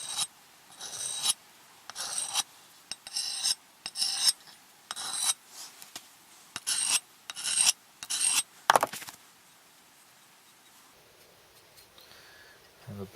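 A vintage axe edge is honed with short, gentle rasping strokes, about a dozen rhythmic scrapes close by, then a pause and near quiet.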